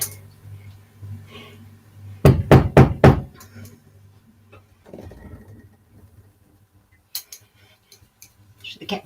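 Cream sloshing and thudding inside a glass jar shaken by hand to make butter: a burst of several loud, rapid rhythmic knocks, then scattered softer clunks, with faint voices in the background.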